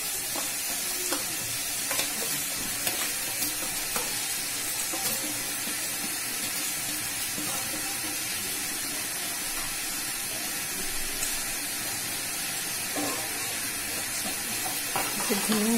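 Washed rice for veg biryani being fried and stirred in a pan, giving a continuous close sizzle with scattered scraping clinks of the spoon throughout.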